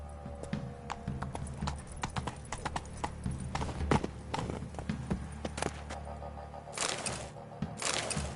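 A horse gallops in a PS4 video game, its hooves clip-clopping in a steady, quick rhythm against faint background noise, with a brief whinny-like burst near the end.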